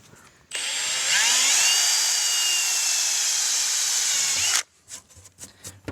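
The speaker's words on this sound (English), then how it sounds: "Pre-drill and countersink." A power drill pre-drills and countersinks a screw hole, running in one steady high whine for about four seconds with its pitch rising once as it spins up. Brief clicks and handling noise follow after it stops.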